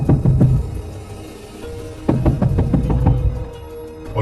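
Loud knocking on a door in a horror story, a witch in a red sari banging house to house at night: two heavy bursts of closely spaced knocks separated by a quieter pause, no talk.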